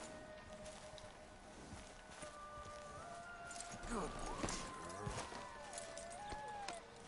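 Horse hooves clop at a steady walking pace in Red Dead Redemption 2, a soft rhythmic thudding under game music and ambient sounds, with a few louder hoof strikes midway.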